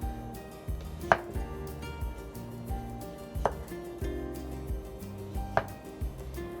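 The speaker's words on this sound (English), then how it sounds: "I'm gonna slice them first" Radishes sliced with a kitchen knife on a cutting board, three distinct crisp chops a couple of seconds apart, close and fairly quiet, with soft background music.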